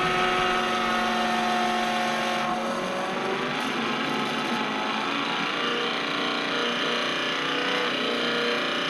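A tractor engine runs just after its fuel pump was replaced, with air still in the fuel line, idling loud and steady at close range for the whole stretch with no talking.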